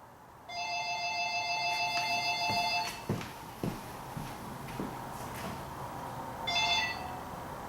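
A telephone in a garage rings with an electronic ringtone, two long trilling bursts followed by a shorter one, with some clattering knocks and movement in between.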